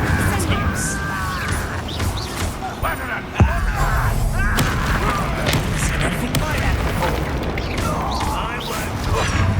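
A fire spell, Incendio, is cast in the Hogwarts Legacy video game, bursting out with a sharp impact mid-clip over dense, continuous combat noise and voices.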